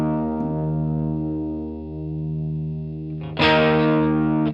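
An electric guitar plays through a Line 6 Catalyst amp on its boutique channel with the gain cranked: a sustained, heavily distorted chord rings out, then a brighter, harsher strummed chord hits and sustains before cutting off.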